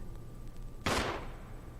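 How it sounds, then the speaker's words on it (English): A single distant-sounding gunshot cracks out in the Resident Evil Remake video game, a sudden loud burst that decays over a fraction of a second after a quiet, faintly humming stretch. "There was a gunshot."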